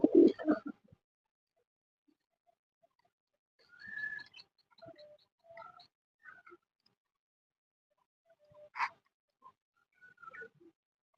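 Local domestic pigeons, kept as a backyard flock, give a few sparse coos and soft calls separated by long quiet gaps, with a louder burst at the start and occasional faint wing or movement sounds.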